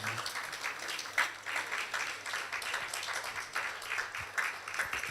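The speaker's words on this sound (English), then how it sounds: "a round of applause for SKP." Soft, continuous clapping from a crowd at a pet-business awards ceremony, heard from a distance with an even, fairly quiet texture.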